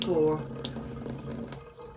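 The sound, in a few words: water running through Chanson Royal water ionizer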